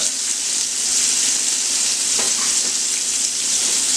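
Beef liver slices fry in a pan with loud, close, continuous sizzling and a bright hiss, a few light clicks of stirring breaking through.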